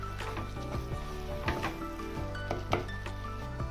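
A spoon scrapes and clinks against a pan while green peas vada batter is mixed over low heat, making a steady run of close, clattering stirs with soft squishy textures between them.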